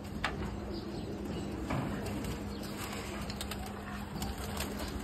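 Racing pigeons coo softly inside a loft, low murmuring calls at a moderate distance over a faint background hum, with brief light rustles.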